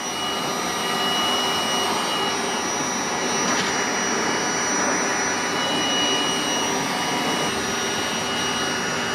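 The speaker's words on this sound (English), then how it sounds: "We'll run this heat gun." A heat gun runs on a portable power station, giving a steady loud fan-driven whoosh and hiss that holds constant throughout with no talk.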